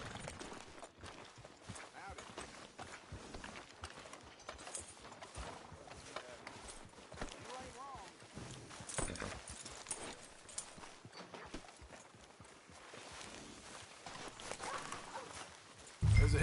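Horse hooves clip-clop at a steady walking pace in Red Dead Redemption 2, close and fairly quiet under game ambience, with a louder thump at the very end.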